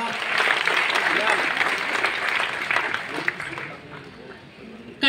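An audience at a comic poetry gathering for the Holi festival applauds steadily, a dense patter of clapping that gradually thins and fades out.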